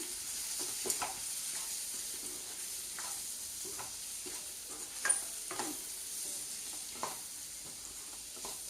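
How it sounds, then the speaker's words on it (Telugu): Soft sizzling and stirring as chili powder and turmeric fry in a pan for a tamarind-leaf egg fry, with faint intermittent scraping over a low steady hiss. "ఒక 2 మినిట్స్ కారం పచ్చివాసన పోయే వరకు వేపుకోనండి"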